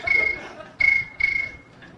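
A comedian imitates cricket chirping with his voice: three bright, steady trilling bursts, close and loud, separated by short pauses, with a fainter fourth at the end.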